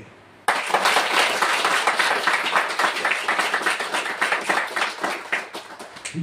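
Loud congregational clapping bursts in suddenly after a brief quiet moment, then carries on as a thick, steady wash of many hands at a church prayer gathering.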